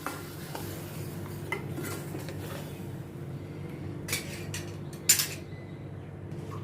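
Tomato puree being stirred with onions in a pot for Punjabi-style rajma, soft scraping of a spoon against metal with occasional clinks and a low background hum.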